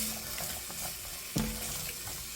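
Thyme, rosemary and seasoned salt gently cooking in a pot for beef noodle soup, giving a steady soft sizzle with light stirring scrapes and one sharper clank partway through.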